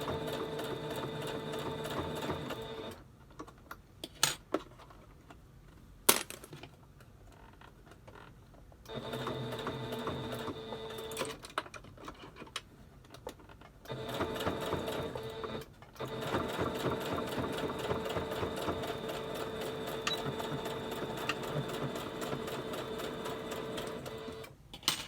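Sewing machine stitching through multiple layers of fabric on a pleated mask with tabs, running in long steady bursts with brief pauses between runs, close and fairly loud.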